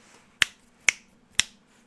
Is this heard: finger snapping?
yes